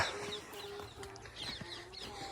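Chickens cluck softly and intermittently, with small birds chirping over a steady outdoor background.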